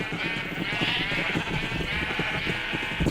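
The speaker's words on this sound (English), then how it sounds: "I think it's all these sheep." Many sheep bleat at once in the game Minecraft, a dense, continuous chorus of overlapping calls at steady moderate loudness with no talking.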